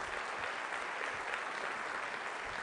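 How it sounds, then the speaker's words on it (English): A conference keynote audience applauds, a dense, even wash of clapping from many hands that holds steady throughout, moderately loud and heard from within the room. "a big round of applause for those people who helped put this on"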